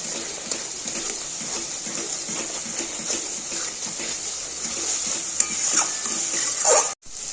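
Spice paste cooks down with a little water in a pan while being stirred, a continuous wet bubbling sizzle with soft scraping of the spoon, close up and unvoiced, ending in a brief clatter.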